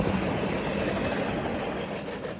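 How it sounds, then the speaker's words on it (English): A BNSF manifest freight train passes at a distance near Carkeek Park, a faint, steady wash of rumbling wheels and rail noise with no distinct beats and no voices. "I heard the sound of a train coming"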